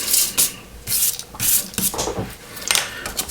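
A very worn sanding pad buffs the foil natural-metal finish on a scale model, giving short, close rubbing strokes in an irregular rhythm.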